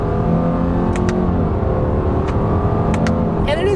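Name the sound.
2020 Subaru Legacy accelerating in first gear, paddle shifters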